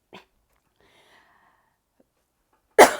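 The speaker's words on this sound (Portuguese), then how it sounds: "Tá difícil com a tosse" A single short burst near the end after mostly silence, a close harsh cough-like sound with a faint breathy noise at the start.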